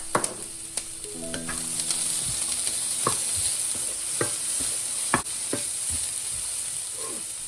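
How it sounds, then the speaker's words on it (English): Corn for vegan fried rice sautés in a pan under a steady hiss of sizzling, while scattered spatula taps and scrapes sound close and sharp every second or so. "And finally corns, a minute saute too."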